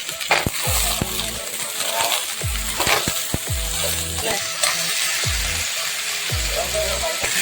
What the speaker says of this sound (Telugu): ఉల్లిపాయలు వేగినాక వేసుకోవాలి బంగాళదుంప ముక్కలు